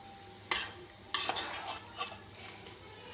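Chana dal and chicken feet are stirred in a pot with a spoon, giving a few quiet, close scraping strokes over a faint sizzle.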